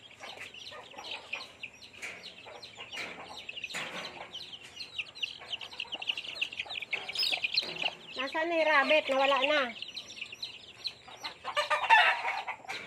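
Chickens cluck around a yard and a rooster crows loudly and close midway, with other fowl chirping, while a person talks over them.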